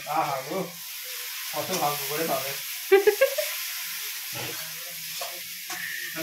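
Food sizzling and frying in a pan in a home kitchen as a brother cooks, a steady soft hiss running underneath, with people talking over it.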